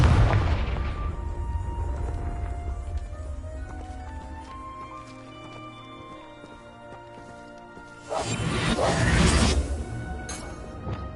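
A Confringo blasting spell going off in Hogwarts Legacy, a deep booming burst at the start, then fading rumbles and tonal game effects, followed by a second loud whooshing blast near the end.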